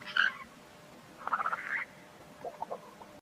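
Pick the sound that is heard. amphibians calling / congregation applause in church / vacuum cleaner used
amphibians calling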